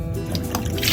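Water dripping and splashing from radishes just rinsed in cold water in a kitchen bowl; several close, wet squishy drips and trickles over a low background hum, with no talking.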